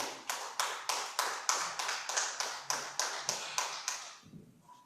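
Quiet, evenly paced clapping in a church congregation, about a dozen sharp claps in a steady rhythm that stop abruptly after four seconds.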